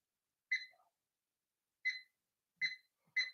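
A kitchen timer gives four short, bright electronic beeps as it is set, spaced unevenly with the last two close together, faint against near silence.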